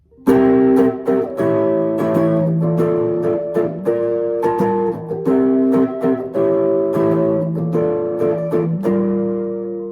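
Guitar chords ring out in a steady, busy strummed rhythm, loud and close, with quick repeated strokes and no voices.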